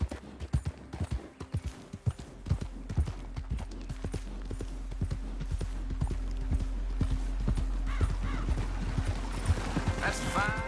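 Horse hooves clip-clop in the Red Dead Redemption 2 video game. The steady, close hoofbeats run throughout with a faint whinny near the end, and voices talk over them.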